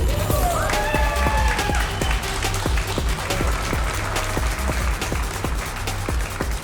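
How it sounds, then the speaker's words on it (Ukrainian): An arena crowd at an MMA event applauds a debuting fighter, dense loud clapping and cheering filling the whole stretch, with a voice and music tones faintly underneath. "Оплески бійцю"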